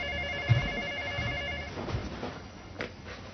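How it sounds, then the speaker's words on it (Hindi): Telephone ringing indoors, a repeated electronic ring tone for just under two seconds, then low room noise with faint knocks and no talk. "ओह, फिर से माइकल का फोन।"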